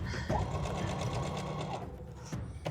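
A sewing machine runs steadily, stitching a seam in fabric for a self-drafted summer top or skirt, a continuous close motor whir lasting about two seconds before it slows and stops.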